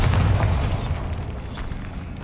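A Bombarda blasting spell in Hogwarts Legacy goes off as a single loud, close boom, heavy and low at the start and then trailing off into a rumbling decay.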